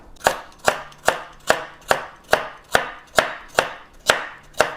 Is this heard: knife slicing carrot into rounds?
yes